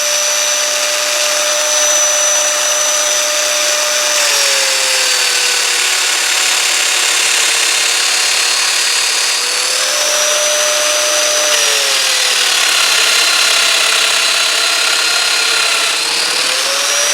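A domino joiner runs continuously, cutting deep narrow mortises into wood for a clock and wall project, its high motor whine dipping in pitch as it plunges into the wood and rising again, loud and close with no talk.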